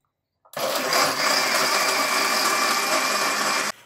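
A kitchen blender runs at full speed, loud and steady, whirring through banana peels and water for about three seconds after a brief click, then cuts off abruptly.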